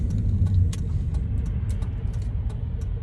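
A 2009 Hyundai Elantra with 180,000 miles on it drives along with a steady low engine and road rumble inside the cabin, and light rattles and clicks tick over it.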